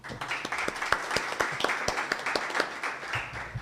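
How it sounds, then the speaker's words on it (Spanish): A modest audience at a formal event applauds, a few seconds of brisk, uneven hand clapping at moderate volume that tapers slightly toward the end. "Un aplauso, por favor"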